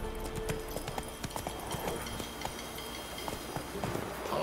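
Hooves of Roach the horse galloping in The Witcher 3 video game, a quick rhythmic clip-clop pattern running steadily and fairly faint over a soft ambient bed.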